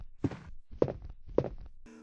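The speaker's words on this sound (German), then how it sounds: "erinnern sich an den Sound der Schritte" Three slow, evenly spaced heavy footsteps from Resident Evil 1, each a solid hollow thud on a hard floor, close and deliberate, with a tonal hum starting at the end.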